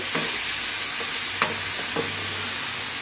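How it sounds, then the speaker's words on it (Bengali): Okra sizzles continuously in hot oil in a nonstick wok, with a few sharp scraping stirs of a spatula against the pan standing out from the steady frying hiss. "এই ভেন্ডিটা কষে যাবো যতক্ষণ না তেল ছাড়ছে।"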